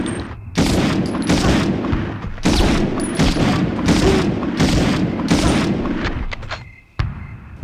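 M1 Garand rifle fire in the Medal of Honor game, a series of loud, evenly spaced booming shots with no clip ping, each ringing briefly before the next, then a short pause and one final shot.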